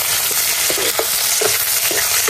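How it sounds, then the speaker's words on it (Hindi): Onion, garlic and chili fry in hot oil with a dense, loud crackling sizzle, while a spoon scrapes through the pan in a loose, repeated stirring rhythm. "अभी दोस्तों तेल गर्म हो चुका है, हम डालिए प्याज लहसुन मिर्चा, थोड़ा भून लेंगे"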